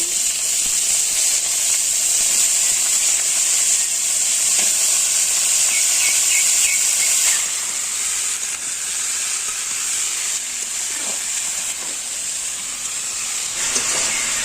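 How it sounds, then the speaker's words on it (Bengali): Kohlrabi frying with onions and dried chili in a wok, a broad steady hiss and sizzle close up with occasional faint stirring clicks, easing slightly partway through, no talk. "কড়াইয়ের মধ্যে তেল দিয়ে ফোড়ন শুকনো লঙ্কা দিয়ে তার উপরে কেটে রাখা পেঁয়াজগুলো দিয়ে একটু ভেজে নিচ্ছি"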